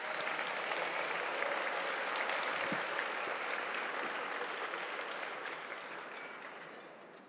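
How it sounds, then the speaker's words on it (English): A gala audience at a 100th birthday celebration applauds the serving staff, a broad, steady wash of clapping from a large crowd that holds for several seconds and gradually fades at the end. "if you could give them a round of applause"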